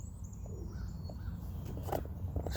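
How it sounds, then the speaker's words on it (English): Faint bird calls, a few crow-like caws, rising from a steady outdoor background hum at a distance on a cloudy morning mountaintop. "Let's relax a bit and listen to the birds"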